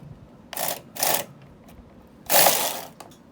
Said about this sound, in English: as we go across with the Knitmaster carriage,